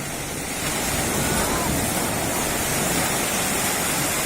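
Surf crashes on the sandy beach at Cox's Bazar in Bangladesh, a continuous loud roar of breaking waves mixed with wind buffeting the microphone, with no voices.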